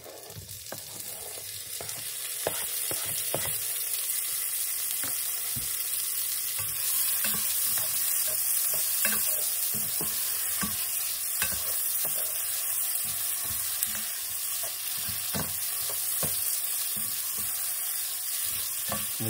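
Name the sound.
cooking tomatoes in a frying pan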